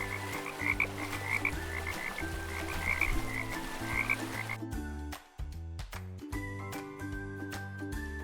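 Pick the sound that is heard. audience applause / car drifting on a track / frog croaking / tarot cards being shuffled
frog croaking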